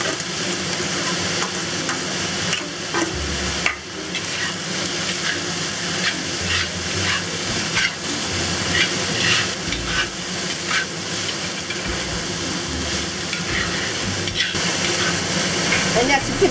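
Mushrooms stir-fried in a hot wok, with steady loud sizzling and repeated scraping tosses of a utensil, close, lasting throughout with continuous frying hiss.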